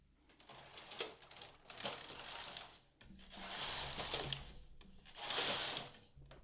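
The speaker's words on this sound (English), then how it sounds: "And I will knit 3 rows with my carriage." A double bed knitting machine carriage is pushed across for three rows, each pass a close, rattling mechanical swish with brief pauses between strokes, no voices.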